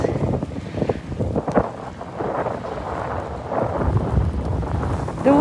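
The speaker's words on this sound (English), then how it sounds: "it's the wind." Strong wind during a snowstorm on 6th Avenue in New York City, a loud, continuous gusty roar buffeting a nearby microphone, with no voices heard.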